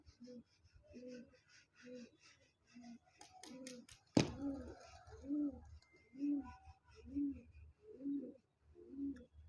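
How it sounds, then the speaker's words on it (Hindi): Repeated soft, low cooing of a large flock of pigeons in a steady rhythm, with a sharp clap partway through and faint flutter and chatter behind. "दो चार पांच कबूतर हों तो समझ में आता है।"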